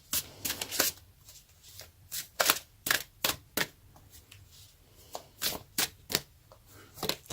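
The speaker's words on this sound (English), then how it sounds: "let's pull the card for Energy Oracle card deck for you" An Energy Oracle card deck is shuffled by hand close up in a quiet room, producing a series of crisp riffling bursts in uneven rhythm.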